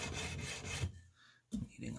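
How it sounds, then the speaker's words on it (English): Sandpaper rubbing across guitar frets on a DIY Strat-style build, short close raspy strokes with a brief pause in the middle before scraping resumes. "So you just keep going until they've all been at least kissed by the sandpaper."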